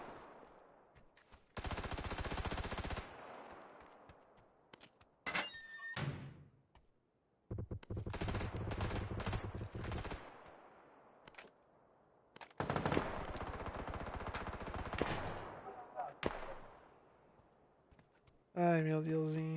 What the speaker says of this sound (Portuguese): Ué, tá atirando nele também.